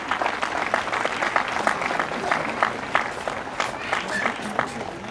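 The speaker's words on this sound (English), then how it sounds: "Please clap." A school audience at an annual function claps continuously, a dense patter of many hands at moderate distance, steady for several seconds.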